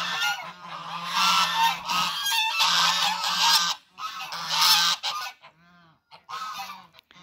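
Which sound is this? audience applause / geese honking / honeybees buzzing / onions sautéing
geese honking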